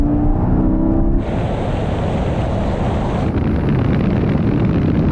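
A GR Supra, a Porsche Cayman GTS and an Alpine A110 S accelerate hard in third gear from a 50 mph rolling start, a loud, steady roar of engines and wind with a tone shift partway through.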